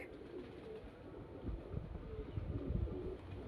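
Domestic pigeons at a sale coo in low, repeated throaty rumbles, faint and close, with soft background rustle and no talk.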